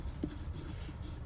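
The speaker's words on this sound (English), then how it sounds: "So I'm going to write strength" A pen scratches out a single word on paper, a soft, brief, close writing sound with a small tap near the start, faint against a quiet room.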